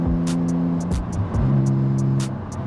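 A Nissan 350Z's loud modified exhaust burbles close by, rising in a couple of short revs, with sharp rattling pops over the engine note.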